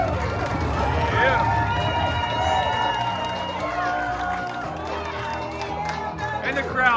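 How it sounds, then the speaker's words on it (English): Crowd cheering in a slot machine game, a dense roar of voices with whooping and shouting that swells and stays loud throughout, mixed with bright machine tones and a talking voice. "And the crowd comes alive again."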